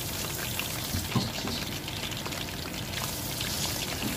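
Miswa noodles drop into boiling broth for ginisang upo, giving a dense, even bubbling hiss with a soft splashy pour and stirring texture throughout.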